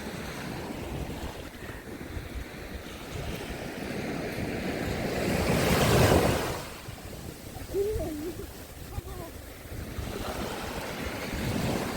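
Black Sea waves washing on the shore at Odesa with steady wind rumbling against the microphone, one surge swelling louder midway, no talking.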